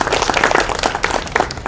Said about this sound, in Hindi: मैं चाहती हूँ एक बार हम जोरदार तालियों से सर का स्वागत करें